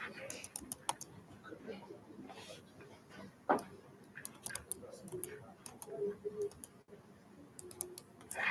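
Someone types on a computer keyboard, entering a phone number into a chat. Scattered quiet clicking keystrokes come in short bursts and pauses close to the microphone, with low background sound and a little faint talk.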